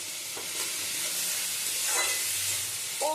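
Sliced squash cooks in a hot pan after a dusting of black pepper powder, giving a continuous close sizzle and hiss with a few scraping stirs of a spatula.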